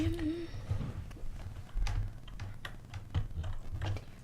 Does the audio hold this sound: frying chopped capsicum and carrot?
no